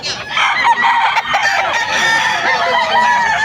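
Many chickens and roosters at a crowded poultry market in Bocaue, Bulacan, crowing and clucking over one another in a loud, continuous, overlapping din.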